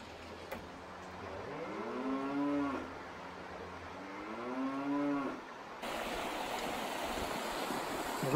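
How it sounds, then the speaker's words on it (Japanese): Cattle at a cowshed high in snowy mountains give two long, drawn-out moos, moderately near, over a constant rush of running stream water that grows louder toward the end. "こんな高いところに牛舎あるんですか"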